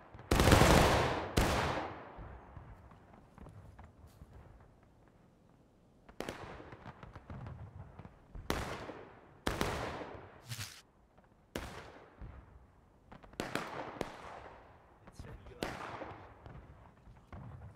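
Musket volleys crack out in the Civil War game War of Rights during a 300-player battle: several sharp, loud reports, some ragged and overlapping, come at irregular intervals, with a voice talking between them.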